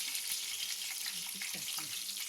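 Cumin seeds and curry leaves crackle in hot oil, a close, steady hiss of frying with small pops throughout.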